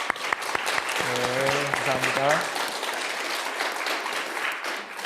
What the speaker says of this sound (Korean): 한번 일어나실 때 박수로 한번 환영하겠습니다